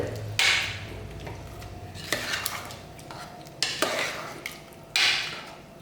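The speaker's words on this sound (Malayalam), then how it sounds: "നന്നായിട്ട് മിക്സ് ചെയ്തെടുക്കാം നമുക്കിത്." A spoon scrapes and knocks against a metal pot of thick curry in a few separate strokes, with a steady background hiss and no talking.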